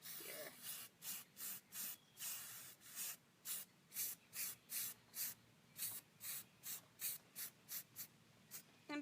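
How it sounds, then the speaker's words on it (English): Rust-Oleum spray paint hisses from an aerosol can in a long series of short bursts, each about half a second, pausing briefly between sprays, fairly close and steady, with no talking. "So I'm just going to spray it on here."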